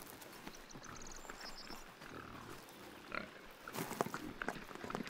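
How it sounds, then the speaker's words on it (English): Black Iberian pigs grunt and snuffle close by, with rough low grunts rising toward the end over a bed of rustling outdoor noise. "The black Iberian pigs can be traced back to ancient times."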